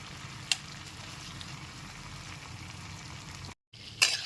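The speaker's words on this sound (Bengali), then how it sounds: "এর মধ্যে সমস্ত ফ্রাই করা চিকেনের টুকরোগুলোকে দিয়ে দিচ্ছি" Fried chicken pieces go into a pan of butter and garlic, giving a low, soft sizzle under steady background noise, with a couple of brief clicks and a short dropout near the end, no talking.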